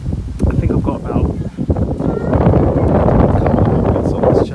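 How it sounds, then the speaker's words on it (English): Strong gusting wind buffets an unprotected microphone in a cathedral graveyard beside a church, a continuous low roaring rumble that swells and steadies without any speech. "It's very windy here."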